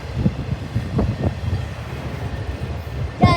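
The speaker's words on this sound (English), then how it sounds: "This train is so long, guys." A long Norfolk Southern freight train rolls past outdoors, a steady low rumble of wheels and cars with wind buffeting the microphone and a sharper clank near the end.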